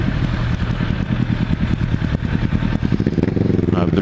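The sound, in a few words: Kawasaki ZX10R motorcycle engine with open exhaust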